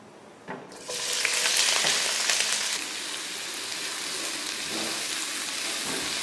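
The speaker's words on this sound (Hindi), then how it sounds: "यहाँ पर मैं कर रहा हूँ प्याजों को गोल्डन ब्राउन कलर का फ्राई" Onions frying in oil in a pan until golden brown for biryani: a sudden loud sizzle bursts up as they hit the oil, then settles into a steady, close, rain-like crackle with no talking.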